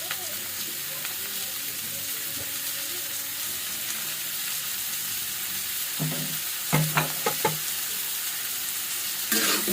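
Young sweet pumpkin fries in a cast iron wok with a continuous close sizzle, then several loud scraping stirs near the end.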